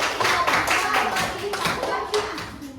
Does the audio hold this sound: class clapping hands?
yes